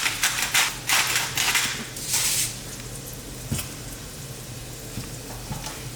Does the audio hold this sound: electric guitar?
no